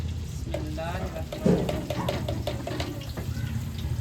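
Finely chopped onions browning in a pan give a steady, close sizzle with a few stirring scrapes throughout.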